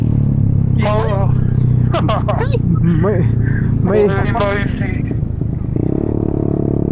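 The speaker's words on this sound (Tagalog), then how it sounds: "Nakakamiss din pala mag-scooter, no?" A scooter rides through stop-and-go city traffic, its engine a low steady drone beneath animated conversation, with passing vehicle noise close by.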